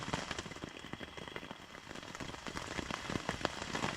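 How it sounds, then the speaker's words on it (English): Rain falling along the Appalachian Trail in 2024, a dense patter of close drops tapping on surfaces, fairly loud and continuous with no talking. "we left the shelter, and now it's just raining."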